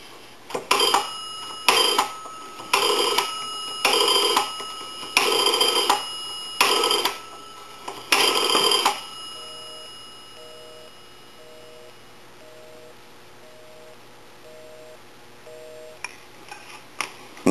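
An A&E three-slot payphone sounds through its handset: a run of loud, evenly spaced tone bursts, then a steady pulsing busy signal of short repeated beeps, clear and close with no talk.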